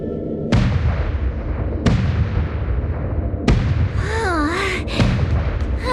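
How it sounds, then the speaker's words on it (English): In the video game Honkai: Star Rail, the Sky Splitter's gun salute fires as three booming, evenly spaced cannon-like blasts with long ringing decays, followed by warbling sweeping tones. "The Sky Splitter's gun salute is really loud."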